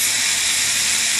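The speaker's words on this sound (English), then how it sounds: "Try talking over the sizzling here" Steady, loud sizzling hiss of scarlet snapper frying in a pan, continuous and close.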